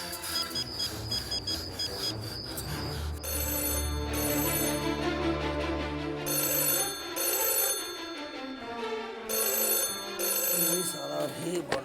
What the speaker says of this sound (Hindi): कोतवाली में फोन लगाते हैं।